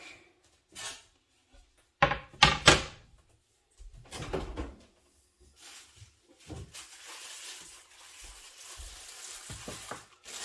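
Beef ribs are put into an oven: scattered close clunks and rattles of the oven door and pans, with sizzling and hissing between them and quiet gaps in between.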